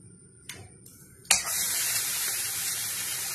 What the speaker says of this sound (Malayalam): ഒരു പാനിലേക്ക് 2 ടേബിൾ സ്പൂൺ ഗീ ഇട്ട് കൊടുത്തിട്ടുണ്ട് ഇനി ഇതിലേക്ക് നമുക്ക് ആ സവാള ഇട്ട് കൊടുക്കാം